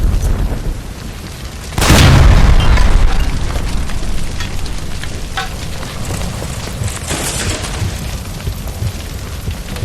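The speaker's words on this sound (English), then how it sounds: "Look, by the stove! Shoot the gas line, Cole, we're out of here!" A gas line beside a stove explodes in the LA Noire video game, a sudden loud boom followed by a long roaring, crackling rumble of fire that slowly settles.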